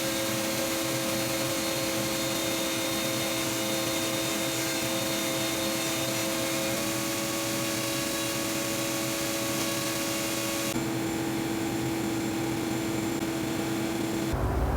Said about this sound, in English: I have the Dremel tungsten carbide bit, the 9901 HP. So I'm going to use this. Go ahead and carve out this purple heart slot